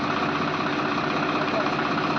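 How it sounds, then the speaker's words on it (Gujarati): A tractor stuck in mud runs its engine with a steady, close diesel idle throughout, as a chain tied to its ring pulls it out. "જેમ જેમ સાંકળ ટાઈટ થાય એમ એમ ટ્રેક્ટર બહાર નીકળશે"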